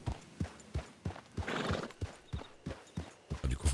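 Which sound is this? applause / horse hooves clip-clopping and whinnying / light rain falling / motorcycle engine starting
horse hooves clip-clopping and whinnying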